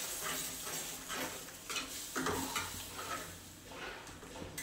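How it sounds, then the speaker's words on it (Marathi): A ground masala paste with a little water cooks in a pan for Dhaba-style lasooni methi, stirred with clinking spoon scrapes over a quiet, soft sizzle, in irregular strokes and fairly faint. "थोडंसं शिजवून घ्यायचं आहे मसाला"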